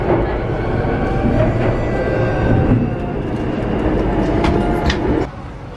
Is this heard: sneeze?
no